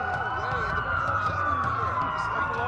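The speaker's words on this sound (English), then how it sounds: "A lot of sirens for a blackout." Police sirens wail in the Watch Dogs video game, several overlapping sweeping tones rising and falling continuously at moderate distance over a low rumble of city background.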